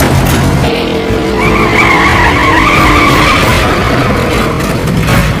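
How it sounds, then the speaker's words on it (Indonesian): A car with its tyres shot out skids hard to a stop, a loud, sustained tyre squeal wavering in pitch over roaring engine noise, close and continuous. "Seseorang di dalam bis juga menembak ban mobil Jack, sehingga mau tak mau Jack menghentikan mobilnya."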